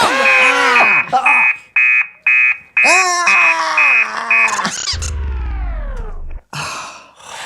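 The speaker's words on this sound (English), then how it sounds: "Would you like to hear my alarm? Yes, and make it loud." A robot alarm clock sounds a loud electronic alarm in repeated beeping bursts, mixed with voices and a wailing synthetic tone, then a low buzzing rumble near the end.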